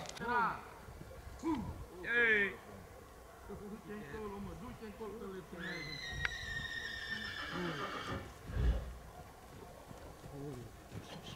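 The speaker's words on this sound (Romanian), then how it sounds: "Mergem să vedem cai." Horses neigh and whinny outdoors at a horse owner's place in Bihor, Romania, several loud, shaky calls rising and falling close by, with flies buzzing and a voice talking briefly among them.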